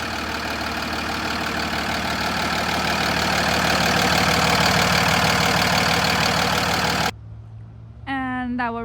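A Cummins 6.7 liter inline-six diesel in a 2019 Freightliner M2 106 26-foot box truck idles loudly and steadily for about seven seconds, then cuts off abruptly, leaving a low hum as a person starts talking.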